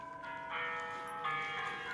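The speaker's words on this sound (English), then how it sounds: "The bells are ringing." Bells ring continuously at a moderate distance on a farm where cows are kept, with sustained overlapping tones that swell around the middle and again toward the end, and no voices.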